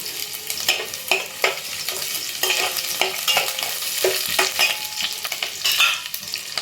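Garlic and green chillies fry in oil, with a bright, close sizzle broken up by repeated scraping stirs of a spatula in the pan.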